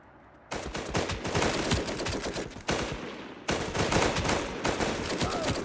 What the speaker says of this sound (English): It's gunfire. It's always supposed to be loud.